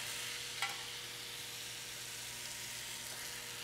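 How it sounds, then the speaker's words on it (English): Meat coated in brown sugar and sorghum sauce sizzles on a grill in a continuous, even hiss, with a single small pop early on. "So I'm going to lay this down on the grill."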